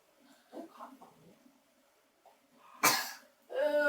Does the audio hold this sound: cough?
yes